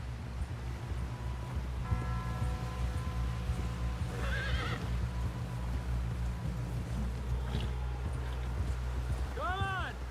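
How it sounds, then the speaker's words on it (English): A horse whinnies and neighs amid Red Dead Redemption 2 game audio, with a rising whinny near the start and another at the end, layered over a steady low rumble, tonal game music and talking voices. "Someone help John down off this horse."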